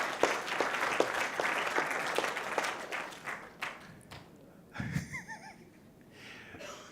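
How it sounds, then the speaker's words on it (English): Audience applause at an awards night, dense clapping for the first few seconds that thins into scattered claps, with breathy noises and brief voice-like sounds in the quieter second half. "big round of applause to my good friend, Mr. Ho Ketat"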